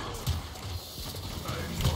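Horse mount hooves clip-clop softly in the Paladins video game, low rhythmic thuds under a busy game mix and a speaking voice.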